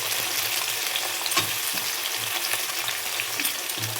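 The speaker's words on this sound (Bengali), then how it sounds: "চলো পেঁয়াজটা ভেজে নিই।" Chopped onions frying in hot oil, a close continuous sizzle with soft stirring scrapes at intervals, no talk.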